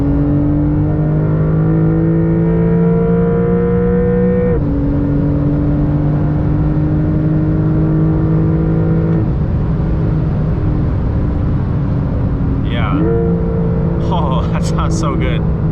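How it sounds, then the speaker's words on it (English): A 2023 Porsche 911 GTS pulls hard through the gears, its engine note climbing steadily and dropping at each upshift, loud and close throughout with no speech over it. "I'm actually going to do a few acceleration pulls so you guys can see just how fast this thing goes and how good it sounds"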